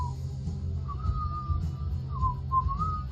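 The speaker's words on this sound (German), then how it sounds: "hör mit der Pfeiferei auf" A person whistles a wavering melodic tune in short sliding phrases over a low background hum, fairly close and clear.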